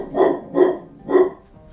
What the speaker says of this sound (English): The dog is being a dog